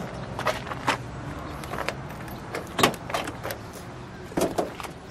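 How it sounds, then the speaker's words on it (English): The trunk of a 1959 Plymouth Sport Fury being opened at a car show: a series of close mechanical clicks, latch clunks and rattles spread over a few seconds, with no voices. "let's open up the trunk, shall we?"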